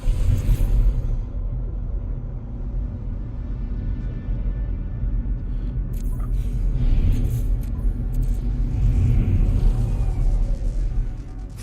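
A planetary storm in the game No Man's Sky: a heavy, continuous low rumble and roar of wind that swells and eases, with faint crackling bursts toward the middle and end.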